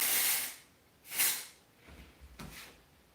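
Volumizing texture spray hisses onto loose curly hair in two short close bursts, followed by faint handling sounds.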